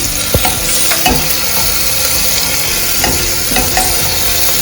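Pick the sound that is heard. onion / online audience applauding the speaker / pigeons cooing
onion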